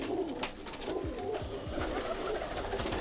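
Pigeons cooing in a loft, several birds overlapping in a steady stream of low, soft coos and throaty burbles, close by, with flutters and faint chatter of the flock throughout.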